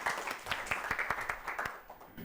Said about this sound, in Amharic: በደንብ አድርጋችሁ አጨብጭቡላቸው